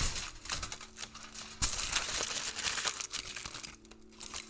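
Aluminium foil being crumpled and squeezed around a small figure sculpture's body, a close run of crisp crinkling and crackling bursts with a few sharper crunches, steady and uneven without any voices.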